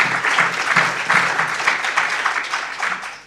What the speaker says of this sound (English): Can we just give you a round of applause?